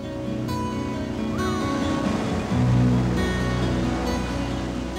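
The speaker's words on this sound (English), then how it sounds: "at the Halona Blowhole, water flows through a submerged lava tube." Ocean water surges through a submerged lava tube at Halona Blowhole on Oahu's coast, a continuous roaring wash of surf that swells briefly midway, layered under a narrating voice and a faint musical tone.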